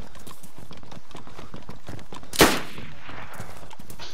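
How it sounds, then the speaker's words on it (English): A single sharp, loud gunshot cracks out midway through a DayZ game scene, standing alone above a steady, rhythmic clattering background. "They're fucking shooting at me."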